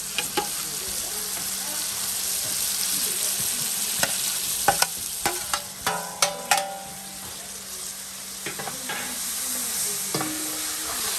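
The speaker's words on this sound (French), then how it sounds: "La marmite commence à chanter." A pot of rougail sauce with tomatoes sizzles and fries steadily on a stove, with a few sharp clinks and scrapes of stirring near the middle; no talking.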